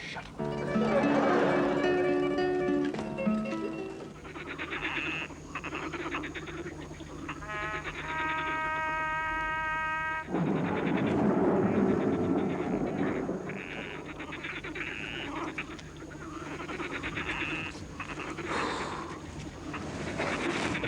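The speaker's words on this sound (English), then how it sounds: "The frogs are restless tonight" Frogs croak restlessly at night before an approaching thunderstorm, a steady chorus of harmonic, bleating calls that rise and fall over a continuous background, with a louder burst partway through.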